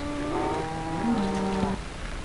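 A Minecraft cow gives one long, steady moo in the game, loud and close, falling in pitch near the end before fading out.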